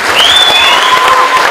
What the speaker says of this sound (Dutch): Geef ze een daverend applaus.